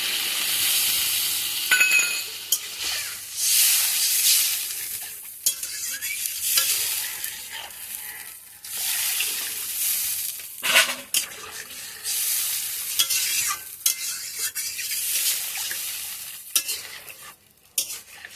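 Spice paste for a Bengali fish curry sizzling and frying in a pan, loud hissing bursts with stirring scrapes and clinks, surging and easing repeatedly over the stretch.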